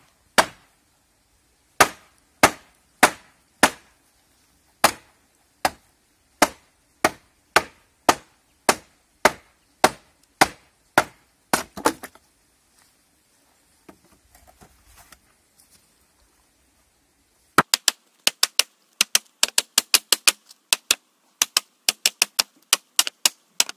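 A hammer strikes a wooden Euro pallet to knock it apart, with sharp, evenly spaced wooden knocks ringing out close and loud, a quiet gap with faint shuffling, then a faster, denser run of blows.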